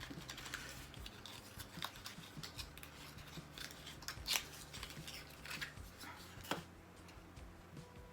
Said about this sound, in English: I'm struggling to open the packaging.